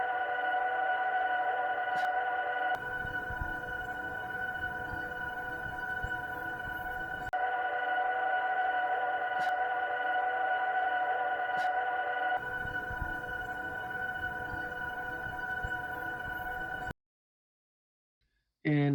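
A Toyota RAV4 Prime reverse backup beeper muffled with sound-deadening material gives a steady, repeating electronic tone, alternating in long even cycles, close and continuous before cutting off near the end.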